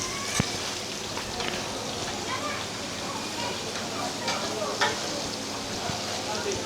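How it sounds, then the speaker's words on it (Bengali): Hilsa fish and eggplant frying in mustard oil at a riverside ghat eatery, a constant dense crackling sizzle close by, with faint background clatter. "এই যে আমাদের মাছ এবং বেগুন ভাজতেছে ভাই"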